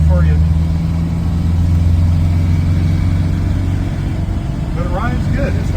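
Buick Regal car engine running steadily while driving in second gear, a continuous low drone with road rumble throughout and brief faint sounds over it.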